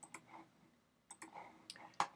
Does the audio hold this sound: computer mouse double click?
yes